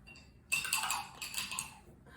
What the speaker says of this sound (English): rinsing my brush